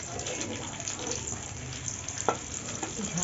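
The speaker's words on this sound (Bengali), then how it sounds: "দেখুন পেঁয়াজটা আমার একটু ভাজা ভাজা হয়ে গেছে" Chopped onion and green chilli frying in a pan for chilli paneer, a continuous close hiss and sizzle with a few small clicks and one sharp knock from the utensil.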